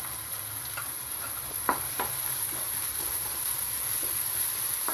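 Green chillies and ginger-garlic paste frying in a pan give a steady close hiss and sizzle, broken by a few soft scraping stirs, with no voices.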